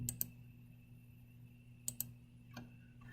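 A computer mouse clicks on lines in CAD software: two pairs of crisp, sharp clicks a couple of seconds apart and a fainter tap near the end, close and quiet over a steady low hum.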